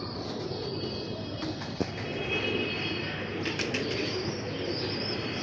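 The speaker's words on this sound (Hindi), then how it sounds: "दोस्तों उस्ताद मोहतरम यहाँ ये कबूतर ले आए हैं।" A pure-bred pigeon held in the hands flutters its wings. Faint, soft rustling flaps and a single sharp knock sit over a low, steady background hum.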